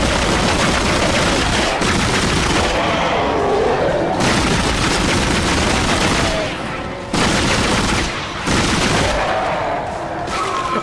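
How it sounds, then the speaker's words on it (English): Gunfire and explosions from the video game Dead Space fill most of the stretch, with loud booms and rapid bursts broken by a few short pauses, and a voice occasionally reacting underneath. "Simultaneous explosions."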